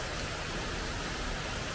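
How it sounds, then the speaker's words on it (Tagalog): Steady, even rain falls during fishing at Binh Quoi in Saigon, a dense continuous hiss with no pauses, fairly loud and close, with no voices in the stretch. "Umuulan pa yun."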